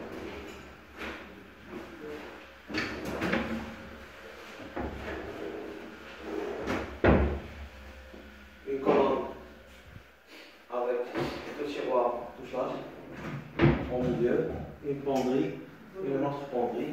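MDF drawers in a zebrano-finish dressing room are pulled open and pushed shut several times, giving sharp sliding knocks and thuds spread across the clip while a person talks in between.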